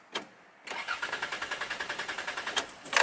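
A car's starter motor cranks in a steady rhythmic chug for about two seconds with the shifter in park, close and fairly loud, ending with a short mechanical clatter.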